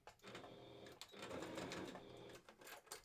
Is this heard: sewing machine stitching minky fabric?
yes